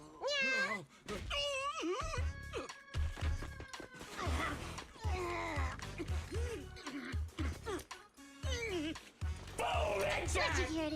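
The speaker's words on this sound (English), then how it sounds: "She's just some lousy cat." A cat in a cat-and-mouse video game yowls and meows in wavering, drawn-out cries, mixed with thumps, crashes and people talking throughout.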